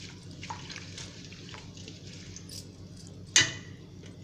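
Rose petals being washed in clean water, with soft splashes and drips over a quiet background and one brief louder splash near the end.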